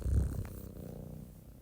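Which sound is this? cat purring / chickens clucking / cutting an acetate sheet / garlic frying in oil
cat purring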